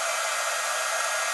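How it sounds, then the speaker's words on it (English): A heat tool on its low setting drying craft work, a steady close whooshing blower hiss with no break. "I'll hit that with my heat tool to speed it up."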